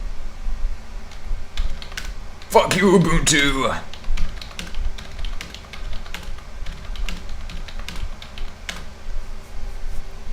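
Fast clattering keystrokes on a computer keyboard run steadily through the clip during an Arch Linux install, close and clear, with a brief loud shouted outburst near the start.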